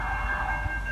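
A police car siren at East Bangor, where a train has hit a truck and blocks the tracks: a steady, moderately faint siren tone holds over low rumbling background noise, with no talking.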